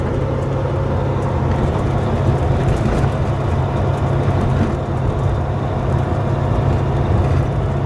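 Cab of a 2004 Volvo 670 truck cruising at 1,350 RPM at about 100 km/h, bobtailed: a steady loud low engine drone with road and wind noise, constant throughout.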